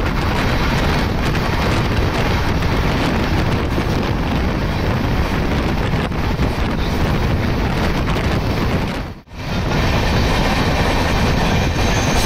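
Sampark Kranti Express running at its top permitted speed of 130 km/h, a loud continuous roar of wheels and rushing wind with faint rhythmic clatter, briefly dipping for a moment near the end.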